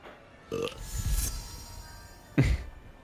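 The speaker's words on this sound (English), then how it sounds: "The burping. The polyjuice potion's wearing off." Burping from a Polyjuice Potion wearing off in the video game Hogwarts Legacy, two loud, close belches about two seconds apart with a faint voice-like murmur between them.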